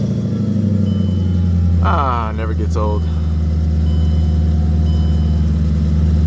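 A supercharged M113K V8 swapped into a CLK55 AMG, running at a steady, deep idle with a low rumbling hum close by. Someone speaks briefly over the engine partway through.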